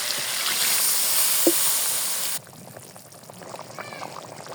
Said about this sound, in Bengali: এখন আমি গলিয়ে পানি দিয়ে দেবো।